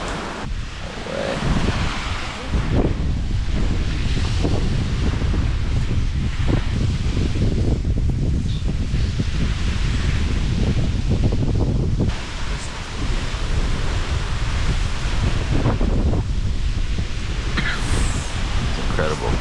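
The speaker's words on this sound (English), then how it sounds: "Under the moonlight on the beach, waves crashing in." Ocean waves crash and wash onto a beach at night in Galibi, Suriname, during a tropical storm: a dense, roaring surf wash mixed with heavy wind buffeting, loud and constant, swelling in repeated surges.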